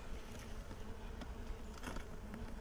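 Honeybees buzz steadily around an opened hive during beginner beekeeping, a dense, continuous hum close to the microphone with a few brief knocks and clicks from hive handling.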